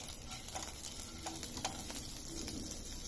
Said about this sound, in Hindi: और जैसे ही घी गर्म होता है हम डालेंगे इसमें जीरा।